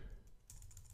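A terminal command typed on a computer keyboard, a brief run of faint, quick key clicks.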